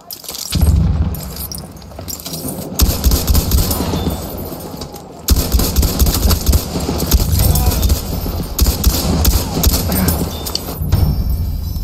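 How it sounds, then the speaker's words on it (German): Bursts of rapid machine gun fire crackle in loud, dense clusters. Heavy low thumps and a chattering rattle repeat through the clip, with short gaps between the volleys. "Ein Maschinengewehr!"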